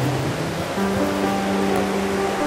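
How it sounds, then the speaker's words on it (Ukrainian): The Kamianets waterfall, with water falling seven metres among forest and boulders, gives a loud, constant rushing roar that fills the whole brief stretch. "вода поміж смарагдовими лісами і каменюками спадає із висоти 7 метрів"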